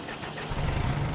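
A tractor engine in the Farming Simulator 25 game hums steadily at a low pitch, then rises slightly in level partway through, heard alone and fairly quiet.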